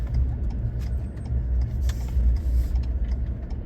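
A car drives slowly and turns into a driveway in Texas after a storm that left power out and trees down; a close, steady low engine and tire rumble with no talking.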